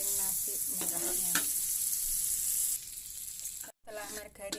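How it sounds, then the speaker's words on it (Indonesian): Red rice fries in melted margarine in a pan, a steady bright sizzle with some stirring scrapes, softer and sparser after a brief cut near the end. "menggoreng nasi merahnya."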